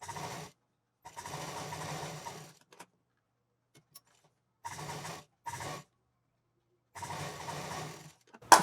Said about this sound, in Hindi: दोनों 8 इंच का एरिया हमें सिल देना है।